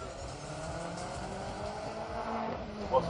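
A four-wheel-drive BMW 5 Series xDrive launches off the drag strip start line at Santa Pod Raceway, its engine roaring steadily and at a distance for about three seconds, with a brief louder burst near the end.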